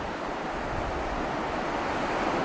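Ocean surf rolls steadily along the sea at Palawan in the Philippines, a broad continuous wash of breaking waves with some wind rumble, loud and unbroken with no voices.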